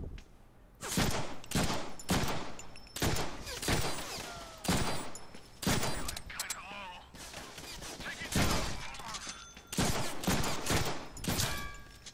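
Loud, heavy gunfire in the Deadpool video game, fired in repeated bursts of roughly a second each, separated by short gaps, with spoken voices between the volleys.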